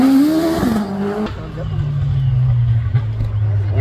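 Pilby hillclimb race car with a 2.9-litre four-cylinder engine at the Craigantlet Hillclimb, its engine note droning steadily and shifting pitch as it runs, under continuous commentary over a loudspeaker.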